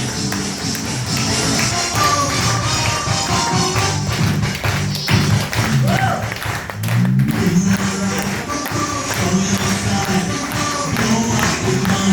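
A large indoor audience gives a long, loud round of applause for 12 seconds, a dense wash of many hands clapping at once with thumps and shuffling underneath.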